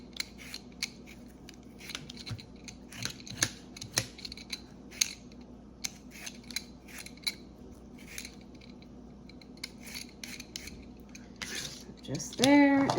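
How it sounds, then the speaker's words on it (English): Ripe peaches being sliced with a stone fruit wedger, heard as a series of close, crisp clicking and squelching cuts in an uneven rhythm, with kitchen clatter near the end. "then I'm going to use the stone fruit wedger to get them into wedges, and then I'll cut them up smaller from there."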